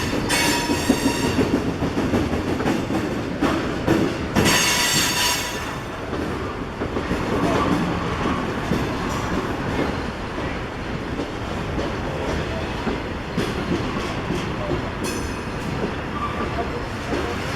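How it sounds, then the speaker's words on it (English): A train rolling past near Roanoke, with a loud, continuous rumble of wheels on rail, rhythmic clacking over joints and occasional bursts of wheel squeal, holding steady throughout. "I'm not going to stop filming until the train is out of sight."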